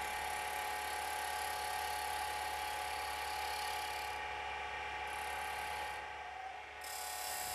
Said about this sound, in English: Shear cut the outside of the complete lidded box.